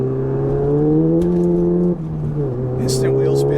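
A VW Golf Mk7 GTI with an IS38 turbo upgrade accelerates hard up a freeway entrance ramp, its engine droning and climbing in pitch through the gears, with a brief dip at a shift before pulling again.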